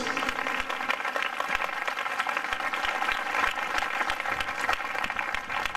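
Church congregation applauding for Jesus, a thick, sustained roar of many people clapping together, even and unbroken from start to finish.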